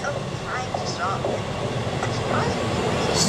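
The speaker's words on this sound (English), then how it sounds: "To Liverpool, East Midlands train." An East Midlands train bound for Liverpool rushes past at speed through Grindleford, a steady loud rumble and rail roar filling the whole moment without a break, with a voice talking over it.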